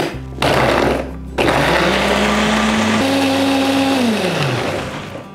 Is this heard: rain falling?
no